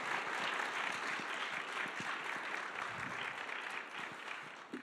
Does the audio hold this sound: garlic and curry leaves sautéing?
no